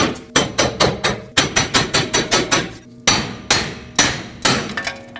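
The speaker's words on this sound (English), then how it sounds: "Now you want to use a hammer, tap this back and forth until it pops out" Repeated metal hammer strikes on the steering knuckle of a 2005-2021 Nissan Frontier 2WD, about a dozen sharp, loud blows in quick irregular bursts with brief pauses between groups.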